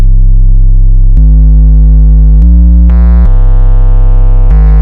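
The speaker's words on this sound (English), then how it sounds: "we're just pushing this triangle wave a lot" Synth 808 bass from a triangle wave pushed with heavy drive and no saturator, a series of long, held, very loud low notes changing pitch every second or so, alone and upfront.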